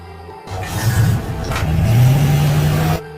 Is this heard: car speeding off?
yes